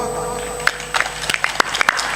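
Clapping from an audience at a spiritual satsang gathering, sharp individual claps scattered over a sustained tonal background, growing denser toward the end.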